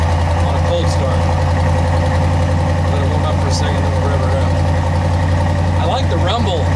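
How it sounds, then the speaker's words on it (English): Ram pickup truck with a Flowmaster Flow FX muffler idles on a cold start, a loud, steady low rumble close by with a high cold-idle drone throughout, and someone speaks briefly over it. "there is that idle on a cold start"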